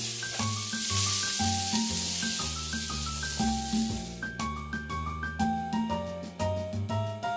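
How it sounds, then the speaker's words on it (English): Prawns hiss and sizzle loudly in a hot pan at first, fading as they continue, with a plucky music track playing over it. "Now I'll add the prawns. And I'll cook this for another 4 minutes."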